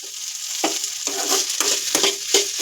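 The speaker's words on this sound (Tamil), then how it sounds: "கேஸ் ஆஃப் பண்ணதுக்கப்புறம் ஏன் இப்படி கிளறிட்டு இருக்க?" A spoon repeatedly scrapes and stirs onion and tomato in a pan, with soft sizzling throughout and several distinct scraping strokes at a steady pace.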